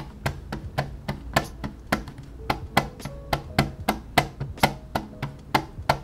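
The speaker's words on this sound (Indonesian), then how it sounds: "dia itu juga ada suara semacam rattle dikit." A Vortexseries GX107 gaming mouse set down repeatedly on a desk, giving a steady series of light, close clicking knocks with a slight rattle, roughly three per second, with no talk over them.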